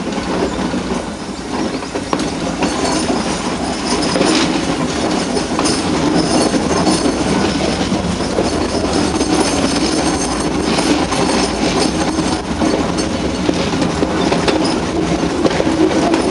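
A train on the Ooty mountain railway runs steadily along the tracks near a tunnel, with continuous loud rumbling, clattering wheels and occasional squeals and no voices.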